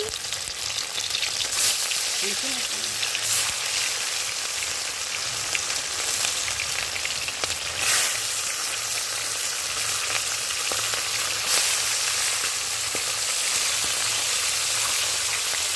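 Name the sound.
small fish frying in oil on a clay stove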